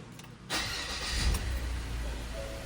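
A 2016 Ford Everest engine idles unevenly with a misfire, a steady low rumble that thickens into a louder surge after a brief quiet start and holds near and continuous to the end.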